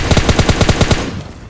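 Automatic gunfire in the mobile game PUBG Mobile Lite: a loud, close burst of about nine rapid shots in even rhythm, then a short fading tail.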